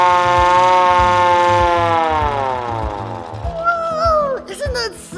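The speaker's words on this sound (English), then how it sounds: "this is the siren." Hand-cranked siren on an antique fire truck winds up into a loud, rising wail that holds steady and then slowly falls, with someone talking over the tail end.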